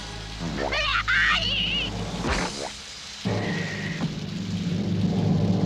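Cartoon rain and thunder: a steady hiss of rain with rumbling thunder, mixed with springy cartoon sound effects and a sustained tone, continuous and moderately loud.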